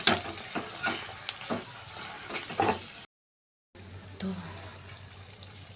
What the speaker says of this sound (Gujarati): તો હવે બટેટા ખમણેલા બટેટા નાખી દેવાના